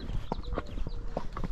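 Rocky Mountain horse walking off from a standstill during gaited training, hooves clopping in a few uneven, moderately close footfalls over a soft background.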